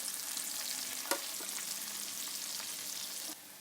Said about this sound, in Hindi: तो दोस्तों ओनियन को हम अच्छे तरीके से थोड़ा सा लाइटली फ्राई कर लेंगे।